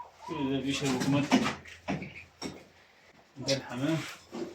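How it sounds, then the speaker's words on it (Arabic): Pigeons in an animal enclosure cooing in soft, throaty bursts, several calls close by, mixed with someone talking over and between them. "ده الحمام،"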